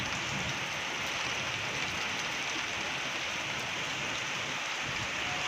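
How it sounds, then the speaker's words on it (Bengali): Rainfall in a rural village makes a continuous soft hiss of drops pattering on the ground and roofs, unbroken and fairly near, with no voices. "শুধু বৃষ্টির আওয়াজ আর বৃষ্টির আওয়াজ"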